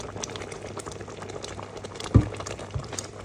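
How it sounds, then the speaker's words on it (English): Gooseberry jam boiling vigorously in a pot with a thick, lava-like boil, giving steady close bubbling and blurping and one louder plop near the end, with no talking. "You can see like the lava-like boil now."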